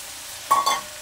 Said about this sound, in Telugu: వేసేసి మరో కొంచెం సేపు ఇలా కలుపుతూ ఉండాలండి అప్పుడప్పుడు